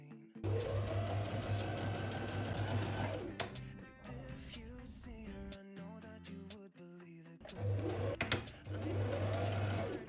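A sewing machine stitches a side seam on a summer dress in two close, steady runs of whirring needle chatter, separated by a pause filled with background music and light handling.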